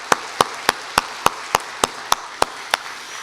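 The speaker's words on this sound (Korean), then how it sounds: "귀한 찬송을 불러주신 우리 할렐루야 찬양대 한번 박수해 주시면" Regular, evenly spaced sharp claps, about ten in three seconds, from a church congregation clapping for the Hallelujah choir after a Christmas service hymn, steady and fairly close.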